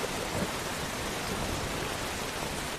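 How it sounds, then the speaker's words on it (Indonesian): Heavy downpour in a gangster film scene, a dense, steady hiss of rain with a faint low rumble underneath, continuous and even throughout. "Dengan hujan yang begitu deras"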